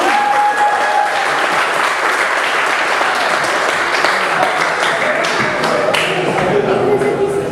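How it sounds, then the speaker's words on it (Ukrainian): Sustained, loud applause from an audience filling the whole stretch, dense clapping without pause, during a stage event on a Greco-Catholic pilgrimage in Belarus. "Бурными оплесками на сцену"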